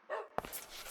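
A dog in the video game RAD gives a single sharp bark close up, set against a steady bed of game ambience.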